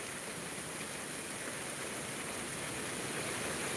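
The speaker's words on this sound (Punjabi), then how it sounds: "25 30 ਮਿੰਟਾਂ ਤੋਂ ਲਗਾਤਾਰ ਬਾਰਿਸ਼ ਹੋ ਰਹੀ ਹੈ ਬਹੁਤ ਤੇਜ਼" Heavy, steady rain pours down in a village in Bathinda district, a dense unbroken hiss with no voices, even and continuous throughout.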